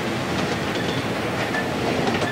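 A toy train set runs on its tracks, giving off a steady, continuous rolling clatter at an even level with no voices.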